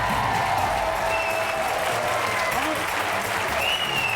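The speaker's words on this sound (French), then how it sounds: "On va quand même applaudir très très fort." Studio audience applauding on a French TV game show, a thick continuous wall of clapping from a large crowd at full loudness throughout, with faint voices mixed in.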